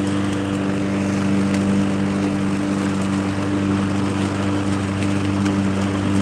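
A lawn mower engine runs steadily and close by for the whole stretch, a constant droning hum with no talking over it.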